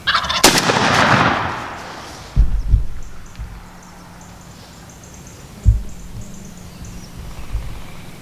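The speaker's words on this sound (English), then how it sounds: "there was a gobbler gobbled way over there" A wild turkey gobbler gobbles in the woods during a spring hunt in Ohio, loud near the start, then a quieter stretch broken by a couple of thumps and a sharp bang.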